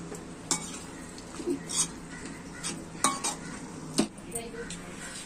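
Cooked vegetables go into a boiling masala gravy for hotel-style veg biryani, with faint spoon-on-pot clinks, soft stirring scrapes and a low bubbling simmer underneath, recorded fairly quietly without talk.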